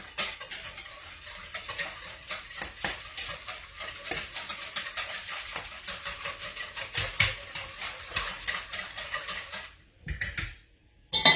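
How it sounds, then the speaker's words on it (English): A whisk clinks quickly and rhythmically against a bowl while mac and cheese ingredients are beaten together before going into a slow cooker, with fast, steady metallic taps close by and a brief pause near the end. "we're just going to go ahead, whisk that together before we add it to our rock crock"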